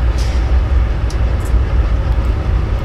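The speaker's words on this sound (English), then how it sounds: "CSX train coming south," A loaded CSX freight train heading south in Train Sim 2015: a loud, steady low rumble of the passing train with a dense rolling roar and a few faint high clanks on top.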